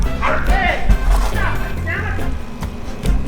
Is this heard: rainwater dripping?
no